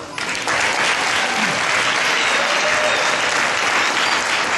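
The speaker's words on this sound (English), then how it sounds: "Another round of applause." Sustained applause from a sizable audience, thick even clapping that starts suddenly and carries on at full strength throughout.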